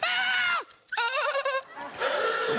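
A voice lets out three short, wailing screams in quick succession, strained and bleating in tone, imitating horror-film shrieks.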